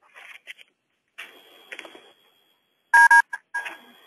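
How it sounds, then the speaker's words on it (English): Telephone keypad tones as star and six are pressed to unmute a phone on a conference call, a couple of loud short double-tone beeps after softer scattered noises, separated by brief silences. "You can hit *6 to unmute your phone"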